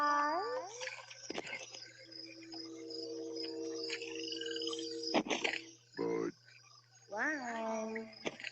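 Frogs croaking in a 1990s Budweiser beer commercial, a string of separate loud, nasal croaks and drawn-out warbling calls with short pauses between them, close up and without talk.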